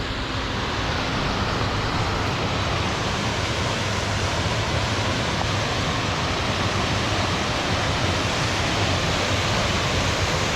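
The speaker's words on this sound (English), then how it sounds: "Just off the trail, we noticed this waterfall" A waterfall just off the John Muir Trail in the Sierra Nevada roars as a loud, steady, broadband rush of falling water, continuous and close by with no other sounds.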